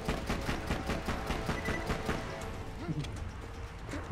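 Rapid automatic gunfire in the video game Borderlands 2, a fast, loud burst of repeated shots that tapers off near the end, with faint voices underneath.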